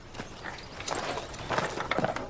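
Horses' hooves clip-clop on a hard surface in a period setting, a few loose, uneven strikes at close range over quiet background ambience.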